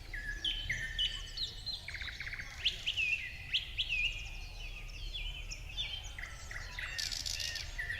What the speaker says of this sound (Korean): 제가 말 안 하고 조용하게 있으면 새소리가 삐약삐약 난다?